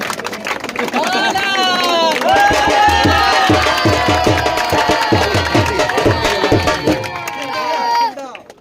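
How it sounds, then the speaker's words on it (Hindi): A crowd claps and cheers at a prize ceremony after a local world cup final match. Loud, continuous applause and shouting mix with voices calling out and chatter, then fade away at the end. "तैयब के लिए ताली जनाब"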